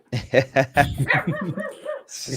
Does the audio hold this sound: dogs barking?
yes